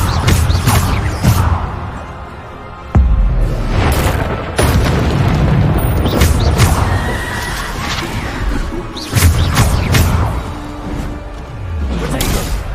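Bombarda spell blasts in the Hogwarts Legacy game: a rapid series of loud, booming explosions and impacts, overlapping with combat effects and chaotic action throughout.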